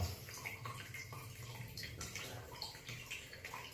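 Water running from a partly opened radiator valve into a container, a quiet, continuous trickle with small splashes and drips close by.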